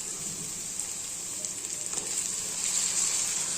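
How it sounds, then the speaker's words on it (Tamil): Onions and tomatoes sauté in hot oil in a pan, making a soft, continuous sizzle and crackle close by that grows slightly louder toward the end. "வெங்காயம் போட்டு நல்லா வதக்கிக்கங்க."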